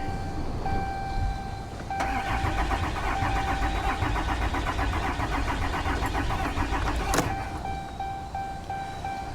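Starter motor on a 1974 Chevy truck cranks steadily for several seconds with a rapid rhythmic churning, the engine never catching, heard fairly close with no talk.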